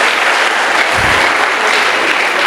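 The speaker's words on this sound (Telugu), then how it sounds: "ఒకసారి గట్టిగా చప్పట్లు కొడదాం ఆయనకి నా తరపున." Loud, dense applause from a large audience at an achievers' reunion training event, steady clapping throughout with a brief low thump near the start and no talk.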